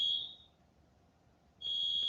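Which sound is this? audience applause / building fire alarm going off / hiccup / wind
building fire alarm going off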